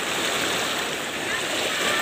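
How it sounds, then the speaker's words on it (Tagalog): Strong ocean waves break at Paguriran beach, giving a constant, loud rushing wash of surf close by with no clear voices over it. "So ayan, makikita ninyo ang lakas ng mga alon."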